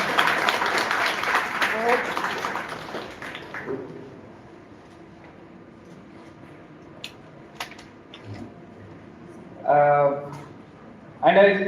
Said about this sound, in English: A huge round of applause again for the panel.